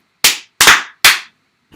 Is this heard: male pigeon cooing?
no